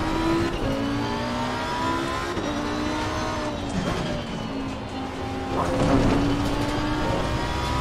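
A race car engine in Assetto Corsa Competizione screams through a final lap at Brands Hatch, with repeated gear shifts and revs rising and dropping, loud and continuous, with brief tire squeal.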